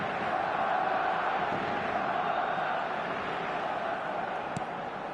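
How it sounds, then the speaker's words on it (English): A stadium crowd roars steadily in the football video game PES 2025 after a goal, a dense, sustained cheer that fills the whole stretch with little change in level. "the crowd level has gone up a notch or 10"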